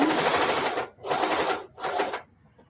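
Three close, loud bursts of a sewing machine stitching a label onto a mug rug, each short run separated by brief stops, ending in quiet.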